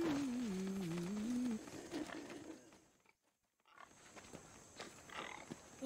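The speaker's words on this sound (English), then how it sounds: "These pigs look hungry." Pigs grunt and squeal in a game world of Assassin's Creed Odyssey, a rough wavering vocal up close for a second or two, then scattered snorts and shuffling after a brief quiet gap.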